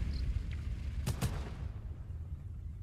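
Two booming blasts close together in the Total Conflict: Resistance war game, sharp and broadband over a steady low rumble of battle ambience, with no voices.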